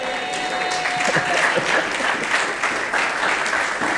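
A church congregation applauds during a special service, a dense, steady burst of clapping that fills the room for the whole stretch, loud and close, with no one speaking over it.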